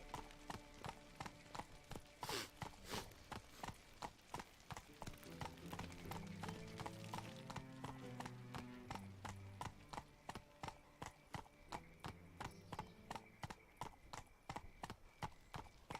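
Roach, the horse in The Witcher 3 on PC, gallops with a fast, steady rhythm of sharp hoof beats, close and continuous, while low game music swells underneath for the whole stretch.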